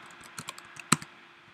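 Typing on a computer keyboard: a short run of scattered key clicks, one louder sharp tap near the middle, close and quiet with no voices.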